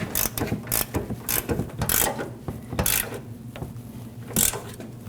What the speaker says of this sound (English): we can now tighten the main bolts that hold it onto the frame